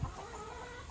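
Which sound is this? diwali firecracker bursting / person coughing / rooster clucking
rooster clucking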